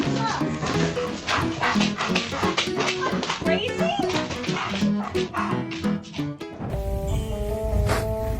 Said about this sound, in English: The pet dog waking its owner up on time is so adorable.